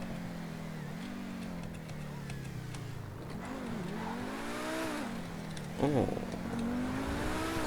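Pegassi sports car in GTA V Online accelerating through rising and falling engine revs, with a sharp gear-shift dip near the end, while a man briefly exclaims over it.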